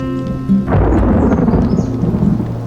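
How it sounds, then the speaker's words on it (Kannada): Thunder rumbles in as rain begins, a heavy low roll breaking out after a quieter start and carrying on under a steady wash of falling rain, loud and close. "ಮಳೆ ಶುರುವಾಯಿತು"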